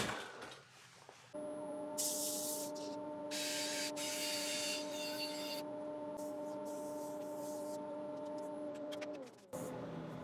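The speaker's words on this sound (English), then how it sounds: "so I'll give this a quick sand." A wooden ladle turning on a lathe gets sanded, with the motor's steady hum carrying a rough, hissing abrasive rasp that comes in several bursts before the machine winds down near the end.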